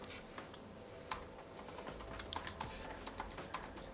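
Rapid, uneven keystrokes on a computer keyboard as a loopOut expression is typed into After Effects, close and crisp with steady clicking throughout, no voices.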